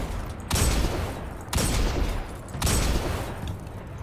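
Three heavy gunshots from a video game crack out about a second apart, each a loud, close blast followed by a long rumbling tail, with no talking over them.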